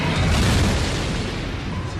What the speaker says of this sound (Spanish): Una explosión de radiación que temporalmente puede brillar más que toda una galaxia.